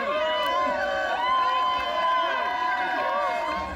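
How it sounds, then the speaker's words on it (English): Crowd at a march cheering for former Secretary of State John Kerry, a steady roar of many voices with overlapping shouts and whoops, sustained and fairly distant throughout. "A crowd cheering for former Secretary of State John Kerry."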